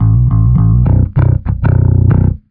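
A Glarry GIB five-string bass with its middle tone knob turned up plays a brief phrase of punchy, growling low notes, each pluck distinct, loud and close, fading out at the end.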